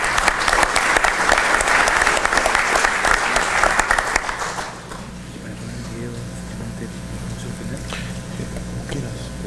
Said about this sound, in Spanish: Un fuerte aplauso para él, por favor.